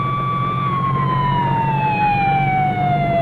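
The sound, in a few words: ambulance siren sound effect in radio drama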